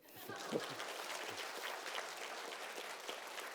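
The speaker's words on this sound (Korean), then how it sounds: "박수 한번 쳐주세요." Audience applause at a Korean lecture on studying, a continuous wash of many hands clapping at moderate distance, with a few brief chuckles near the start.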